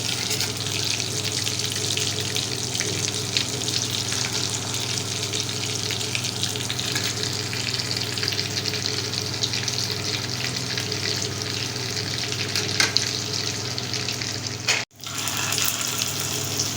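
Shami kababs frying in a pan in a home kitchen: continuous close sizzling and crackling of oil throughout, with faint clinks near the end and no voices.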